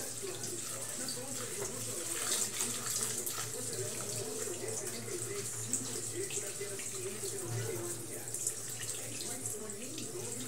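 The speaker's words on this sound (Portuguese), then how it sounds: "Agora de uma lavada, né? Uma lavadinha, depois vai escorrendo aqui" Tap water runs steadily into a kitchen sink while vegetables are rinsed for a cabbage, carrot and beet salad, a continuous soft splashing rush with a few faint clinks.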